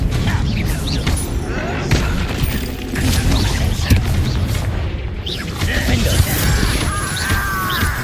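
Confringo blasting spell in Hogwarts Legacy, with loud booming bursts and crackling impacts layered over dense battle noise, while voices shout amid the chaos.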